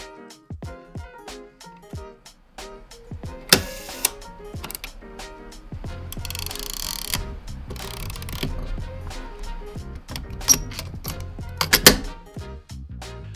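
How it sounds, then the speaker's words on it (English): Film camera mechanics sound off up close: lens interlocks, the film advance winder, shutter cocking and the viewfinder opening, a run of crisp clicks, ratcheting winds and snaps with brief whirring passages, alone without talk. "the sounds of the interlocks for changing lenses, and the film advance winder, the cocking of the shutter, the opening of the viewfinder"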